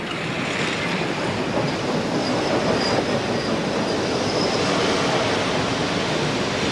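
Passenger train rolling along the rails in Russia, a steady, loud, continuous rumble of wheels and carriages with faint squealing and no voices.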